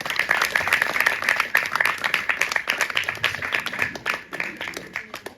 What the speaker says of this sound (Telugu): ఒకసారి ఆ అన్న కోసం ఒకసారి క్లాప్స్ కొట్టండి